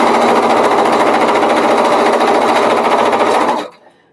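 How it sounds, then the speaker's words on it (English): A sewing machine stitches around the four sides of a piece of fabric, a loud, fast, continuous mechanical whir that stops abruptly near the end. "I can't believe all this was just sewing up 4 sides"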